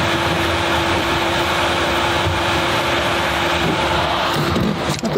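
A car with a loud exhaust rolls slowly down a road at about 10 km/h, heard from inside as a steady, close, rumbling drone with no pauses, alone without talk.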